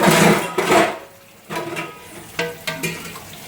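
Dishes being scrubbed and washed in a home kitchen, with scattered clatters and clinks of pots and utensils and watery scraping noises, fairly close and loud, pausing briefly in the middle before several sharp knocks.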